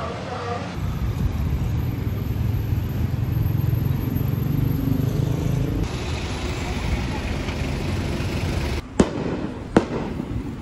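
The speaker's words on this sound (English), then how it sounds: "So those are fireworks, not gunshots." Fireworks crackle and pop throughout in a crowded downtown street in Sonsonate, El Salvador, a dense steady barrage under city traffic noise, ending with a few sharper isolated bangs.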